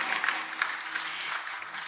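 Audience applause at a comedy kirtan, a brief burst of dense clapping from a crowd at moderate distance, steady throughout with no talk.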